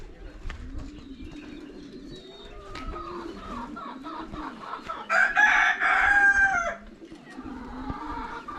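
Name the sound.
pigeons cooing in animal zone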